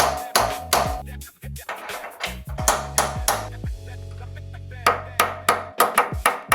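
Sharp metal hammer strikes drive a steering head bearing race into a Harley-Davidson frame through a sleeve. The blows are close and loud, come in irregular bursts, and some leave a short ringing tone.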